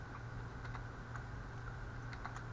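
Quick soft clicks of a computer keyboard, a few light keystrokes for a paste shortcut, close and quiet over a faint steady background hiss.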